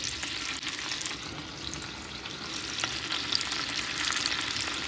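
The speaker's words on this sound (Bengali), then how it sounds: "একদম অল্প তেলেই আমি এইটা ভাজা করছি।" Constant crackling sizzle of food frying in a shallow pan of oil, steady and close, with no one talking.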